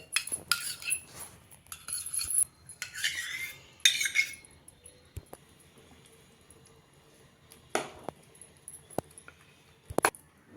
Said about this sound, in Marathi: आता आपण ते चमच्यानी चांगलं फेटून घेऊया आणि पिठामध्ये मिक्स करूया